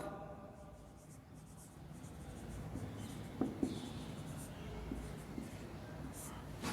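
A pen scratches across paper while a maths solution for a class 10 polynomials problem is written out, a faint continuous scribble with a couple of small taps, near and quiet, with no talking over it.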